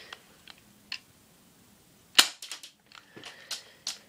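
A Ha11 BB gun, loaded with a 15-round magazine, snaps off a sharp crack followed by a few quick clicks and rattles of the mechanism, with faint handling taps beforehand.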